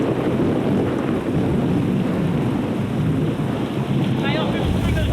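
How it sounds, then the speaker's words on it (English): Storm wind roars hard and steadily over an island, a dense continuous rushing buffet across the whole stretch with no clear pauses. "That's a real storm."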